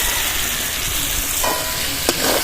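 A fried fish head being sautéed in a pan with spices, tomato paste and slit green chillies. It gives a dense, loud sizzle with a couple of spatula scrapes near the end.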